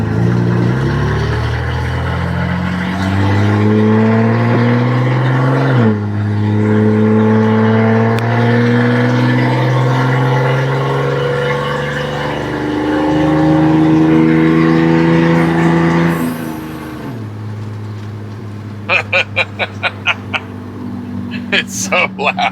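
A 1974 Volvo 164e with a redblock engine and a rowdy aftermarket exhaust revs loudly and repeatedly during a close pass, with strong rising and falling engine tones. Sharp crackles and pops follow at the end.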